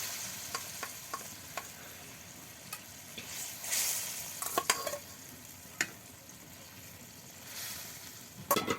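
Fried duck eggs are added to a pan of well-cooked spiced masala. The masala sizzles softly and steadily, broken by scattered sharp clinks and scrapes of a stirring spoon, with no voices.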